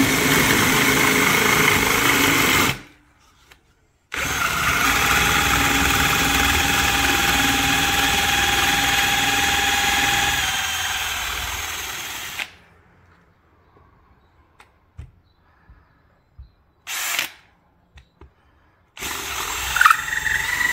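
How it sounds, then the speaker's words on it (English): A small electric hand drill bores a large hole into an old barn beam, whirring steadily and loudly in two long runs separated by a brief stop, then falling to faint scattered knocks and short bursts. "we'll drill with the little hand drill, and it is a big bore for a tiny wire"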